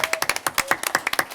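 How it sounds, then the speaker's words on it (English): A small group clapping for a high school football team at a board of education meeting, sharp distinct claps in a quick irregular rhythm, close and clear with no talk over them. "Round of applause for our Tigers."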